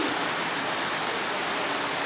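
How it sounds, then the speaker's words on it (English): Steady rain shower during the rainy season in the Philippines, a dense even hiss of drops falling on surfaces, continuous and fairly loud with no talk. "You get a good rain shower, and then it'll usually clear up."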